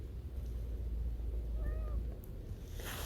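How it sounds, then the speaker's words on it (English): A cat gives a single short meow partway through, outdoors over a steady low background rumble, with no talking. "The kitty meows again and looks for a spot in my lap."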